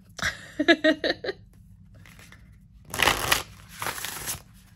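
A Priestess of Light oracle card deck gets shuffled nearby, a few quick papery riffles and flutters in short bursts separated by near silence.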